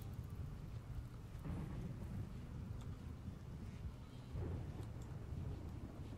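A thunderstorm in the video game Rimworld plays as quiet, steady rain hiss under low rolling thunder rumbles that swell a few times.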